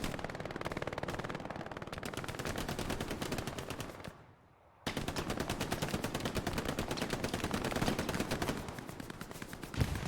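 Sustained machine gun fire dominates a team shooter playoff match, rapid rounds hammering almost continuously for about ten seconds, loud and close, with a brief pause near the midpoint before the bursts resume.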